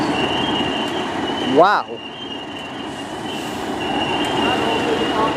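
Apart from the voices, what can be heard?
train pulling in at Stafford station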